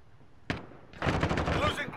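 A single loud gunshot, then a sustained rapid burst of automatic fire in Call of Duty: Modern Warfare, rounds punching through a wall at close range.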